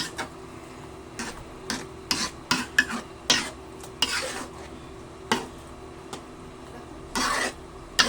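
A spoon stirs a no-bake macaroni mixture in a bowl, making a series of short, close scraping and rubbing strokes with quiet gaps between them and no talk.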